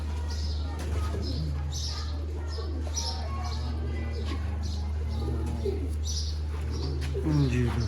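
Pigeons coo repeatedly in low, rolling bursts around a loft, with a few chirps and wing flaps mixed in and someone talking faintly over a steady background hum.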